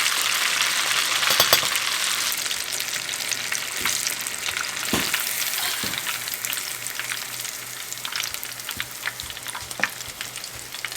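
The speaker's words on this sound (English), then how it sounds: "these only take a minute or two to cook because they're so small" Small tilapia fry in hot oil with a dense, even crackle, occasional pops and a few utensil knocks, holding steady and near for the whole stretch with nobody talking.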